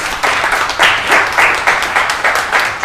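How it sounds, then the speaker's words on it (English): A small group at an office team meeting applauds, steady clapping with some swelling pulses, close and lively throughout. "Give you guys a round of applause."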